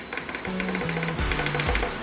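Beeps from an air fryer's control panel as the timer is set for sweet potato fries, a short run of sharp electronic tones heard up close over a low kitchen hum.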